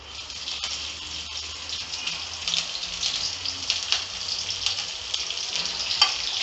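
Green chilies fry in a pan over a lower-medium flame while cooking a sweet potato breakfast, giving a steady close hiss of sizzling oil with small crackles and pops throughout.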